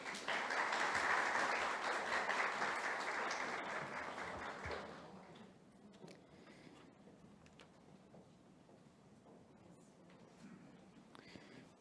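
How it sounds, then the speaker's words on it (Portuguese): The audience at a launch event applauds steadily for about five seconds, then it fades into quiet room noise with a few stray claps. "peço uma salva de palmas para todos"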